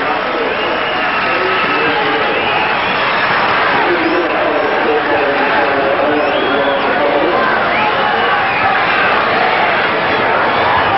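A massive crowd at Redfern Oval for a 1987 South Sydney versus Manly rugby league match, a dense, continuous roar of many voices filling the whole stretch with steady loudness, commentary running over it.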